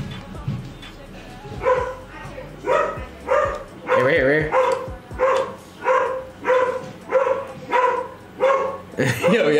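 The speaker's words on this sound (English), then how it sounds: "If y'all hear my dog, my bad. He's just bugging." An indoor dog set off by golden retrievers outside barks over and over, about a dozen loud, evenly spaced barks at close range, while someone speaks briefly at the start.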